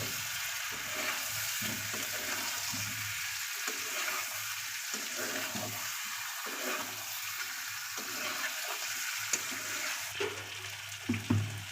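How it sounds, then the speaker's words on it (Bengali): Chicken and fried potatoes being stir-fried for chicken kosha, a steady sizzle with repeated scraping stirs of a spatula in the pan, the strokes growing louder toward the end. "এবার সবগুলো আবার ভালোভাবে একটু মিশিয়ে কষে নেব"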